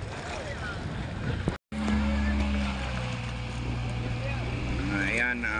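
Large sea waves surge and wash steadily at Mekatig during sudden rough weather, with a loud continuous roar of water and wind close by, a brief dropout midway, and a few faint tonal calls near the end.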